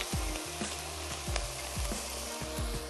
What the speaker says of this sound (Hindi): थोड़ा सा ऑयल ऐड करते हैं ताकि शलजम जो है वो थोड़े अच्छे से भुन जाए।